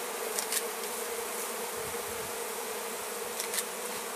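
A dense, constant drone of many honeybees buzzing close by during a professional beehive relocation in Provence, with a few brief louder passes of individual bees.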